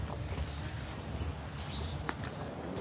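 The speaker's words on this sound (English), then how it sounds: "I don't know if you can hear the horses." Horses on a large open ground give faint, scattered hoof clops and thuds over low background ambience.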